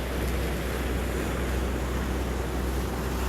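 A tour boat sailing on Windermere, a freshwater lake in England's Lake District, gives a loud, steady rush of engine and wind noise, continuous and unbroken with no talk.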